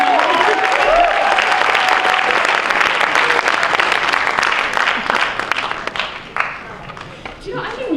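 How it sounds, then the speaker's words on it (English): Loud, sustained applause rises from an awards-ceremony crowd as guests walk on stage, with dense clapping and a few cheers. It fades slightly toward the end while voices carry over it. "let's give him a round of applause as they come on stage"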